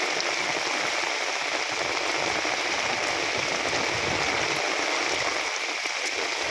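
Steady heavy rain pours down in a constant dense hiss, close and loud throughout, with no talking.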